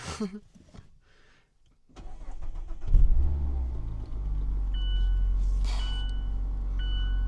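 A Mazda Miata starts up and settles into a steady engine idle and rumble, with a door or movement thump before the engine catches, a brief rev, and a few faint electronic beeps later.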